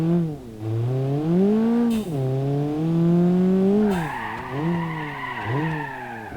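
Tires squeal steadily as a car drifts in the BeamNG.drive driving simulator, the engine revving and wavering in pitch through long sliding turns, loud and close.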